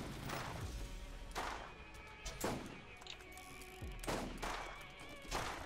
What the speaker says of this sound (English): God, you cannot hit with that revolver.